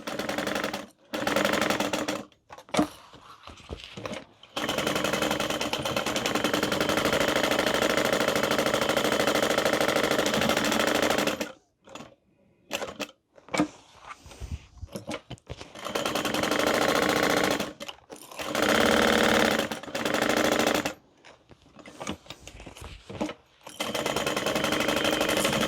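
A sewing machine bastes a padded tote bag along the seam allowance, long steady close stitching runs alternating with short bursts and quiet pauses.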